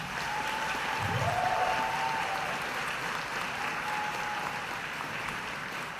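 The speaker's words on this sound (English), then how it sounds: "give them a round of applause" Graduates and guests applaud at a university autumn graduation ceremony, a steady, moderately loud spread of clapping through a large hall, with a faint voice and whistle briefly over it.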